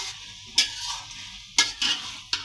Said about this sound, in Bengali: আর একটু ভাজা ভাজা করে নেব।